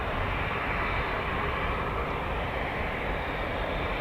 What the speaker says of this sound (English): I can hear an engine spooling.